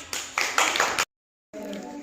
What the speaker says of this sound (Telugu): క్లాప్స్ కొట్టండి యశ్వంత్కి